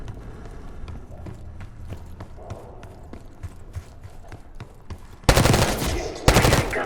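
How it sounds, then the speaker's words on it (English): Gunfire in the Call of Duty Black Ops 6 video game, first as sparse distant shots over low rumbling ambience, then two loud, close bursts of rapid automatic fire near the end. "Gunfire? Yes."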